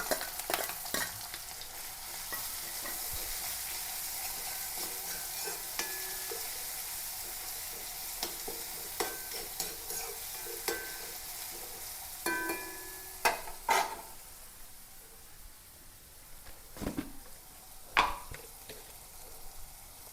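Crushed onion, garlic and green chilli fry in a pan for a long-bean stir-fry: a steady hiss of oil broken by scattered sharp clicks and scrapes of stirring that grow more frequent toward the end.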